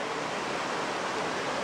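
Small waterfall at Upson Falls in Upson Park, a steady, even rush of falling water heard close and alone, with no voices.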